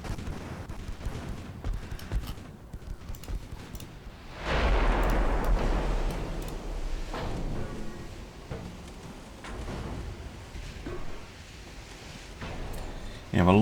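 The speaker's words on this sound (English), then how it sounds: "Those 2-inch guns, Jesus." Gunfire from 2-inch naval guns in the naval combat game Ultimate Admiral Dreadnoughts, a dense rolling barrage of shots that swells loud midway through, with a rumbling low end and a voice speaking over it.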